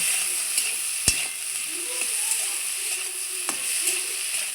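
Bota greens fry in a pan with salt and turmeric, giving a steady bright sizzle. A few sharp taps and scrapes of a spatula stirring the greens cut through it, and no voices are heard.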